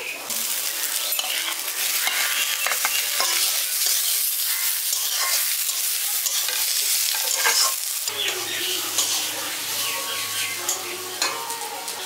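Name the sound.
stirring fried eggplant into spiced winter vegetables in a pan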